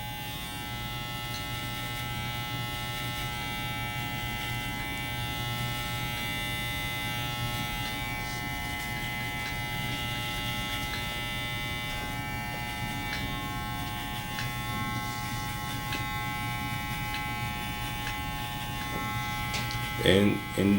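Electric hair clippers buzz steadily through a fade on an Afro-textured haircut, blending out a guideline at a 1.5 guard; a continuous close, even whir runs throughout with a brief louder clatter near the end.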